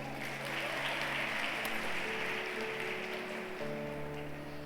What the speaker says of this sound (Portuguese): E agora as mulheres sentadas dão uma salva de palmas para os homens